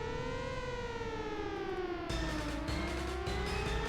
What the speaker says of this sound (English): Clearly, judging by the sirens going off.